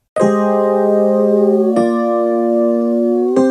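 Three sustained synth notes in Ableton Live 12.1, each gliding smoothly into pitch with glissando before holding steady, with bright harmonics and a sharp onset at each new note.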